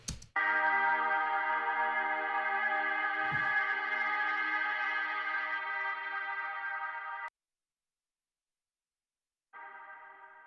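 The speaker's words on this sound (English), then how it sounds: "It's just kind of like a spacious guitar part, and it's totally washed out with reverb, but without the reverb." A sustained, buzzy guitar chord rings dry and steady with its reverb removed for several seconds, stops abruptly, then another chord enters after a brief silence.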